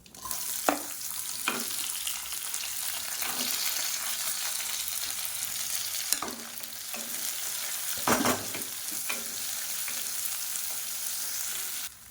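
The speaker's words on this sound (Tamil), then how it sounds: "இப்போ வெங்காயம் நல்லா வதங்கிடுச்சு." Onions fry in hot oil with mustard seeds and curry leaves, a steady close sizzle broken every few seconds by sharp scrapes and clinks of stirring in the pan, with no talking.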